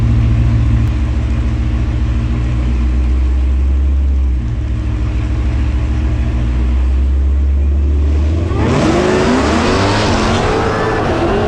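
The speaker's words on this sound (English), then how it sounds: "we're about to race this white Mustang." A supercharged Mustang and a Trackhawk in a drag race: a loud, steady low engine drone builds, then near the end erupts into a harsh roar of rising revs as the cars launch.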